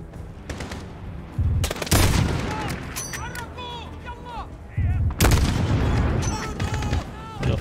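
Rapid bursts of gunfire from the game Call of Duty: Modern Warfare 2019, loud sharp volleys in clusters with pauses between, mixed with game effects and someone talking over the shooting.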